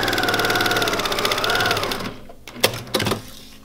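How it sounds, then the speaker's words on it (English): A sewing machine stitches along the edge of a fabric scuba flag mask, a loud close rapid needle rattle that runs steadily, then stops and leaves a few clicks and handling knocks. "I'm gonna sew off the edge because I'm gonna trim these corners a little bit."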